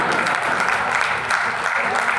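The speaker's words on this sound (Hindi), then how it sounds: "एक बार तालियां बजाइए और कार्यक्रम को ऊर्जा दीजिए" Audience at a Hindi poetry event breaks into steady, dense applause, an even wash of many hands clapping at moderate loudness with no talk over it.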